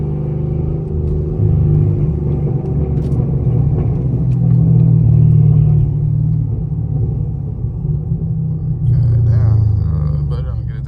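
A 6th-generation Camaro SS engine rumbles low and heavy, building as it accelerates, with a voice briefly audible over the roar near the end.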